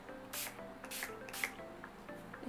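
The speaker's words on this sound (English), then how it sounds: "And I just like a couple of quick sprays." Urban Decay All Nighter makeup setting spray misted in three quick, close bursts, each a short airy hiss, with quiet handling noise between them and no talk.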